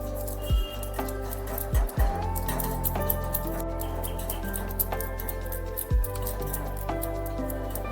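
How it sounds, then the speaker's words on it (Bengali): Spice paste of mustard and poppy seed with salt and jaggery powder is mixed by hand for steamed pabda fish. Soft, wet squishing and a few dull taps come close over a steady background hum, with no talking. "এইবার পুরো মশলাটাকে এইভাবে একটু ভালোভাবে মিশিয়ে নিতে হবে"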